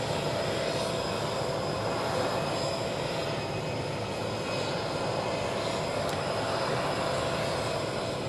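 Steady, loud roar of Air Force One's jet engines idling on the tarmac at West Palm Beach, Florida, a continuous broadband drone that holds unbroken and without talk for the whole stretch.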